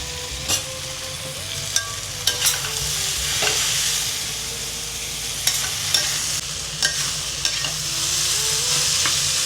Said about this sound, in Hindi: अब इसको भी गाइस थोड़ा थोड़ा अच्छे से फ्राई कर लेते हैं।